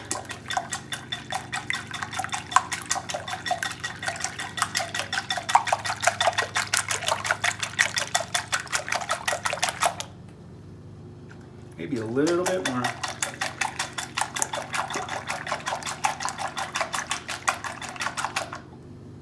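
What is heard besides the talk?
balloon whisk beating eggs until uniform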